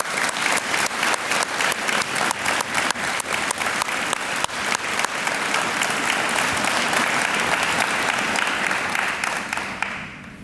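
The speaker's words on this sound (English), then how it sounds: "Please join me in a round of applause for a long and healthy retirement today" Sustained audience applause at a police department promotional ceremony in Norfolk, honoring retiring officers; dense, steady clapping with distinct individual claps fills the room for about ten seconds, then tapers off at the end.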